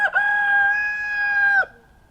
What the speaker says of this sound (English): Cousin Rooster. You just love to do that, don't you